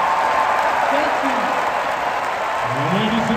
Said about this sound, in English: let us give you a round of applause